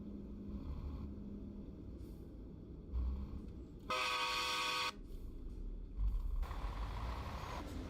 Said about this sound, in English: I might have put a train horn on here.